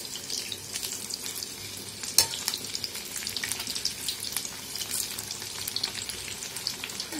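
Chicken lollipops frying on a low flame just after being flipped: a steady close crackle and spatter of oil with one sharper pop early on and no voices.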